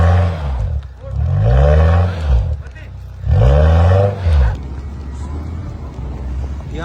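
A Suzuki Jimny stuck on black ice, its engine revving hard in two long surges while the tyres spin in place, loud and close, with a steady lower rumble between the surges.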